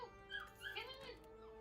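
A dog whimpering and whining in short high-pitched yelps while trying to climb stairs, fairly faint and close, a few rising and falling cries over about two seconds.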